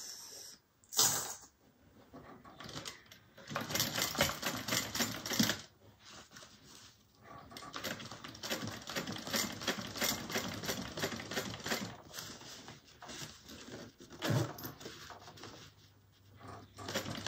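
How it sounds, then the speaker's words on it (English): A sewing machine top stitching through the seam allowance, top band and zipper of a satchel runs in quiet, rapid mechanical bursts, stopping briefly and restarting several times. "We're only top stitching through the seam allowance and the top band and the zipper."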